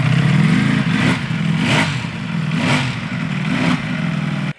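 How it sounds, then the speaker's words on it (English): A Ducati V4R's Desmo Sedici Stradale R V4 engine idles with a loud, lumpy, uneven burble, blipped by four sharp throttle revs spaced about a second apart, close and alone. "When you start up the Desmo Sedici Stradale R engine, you might notice that it sounds a little bit different than other V4s"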